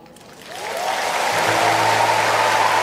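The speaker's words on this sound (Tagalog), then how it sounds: "kapag lumalakas kayo sa inyong palakpak" Applause rising from a large congregation at a healing service, building quickly to a dense, sustained roar of clapping mixed with a held tone, loud and continuous.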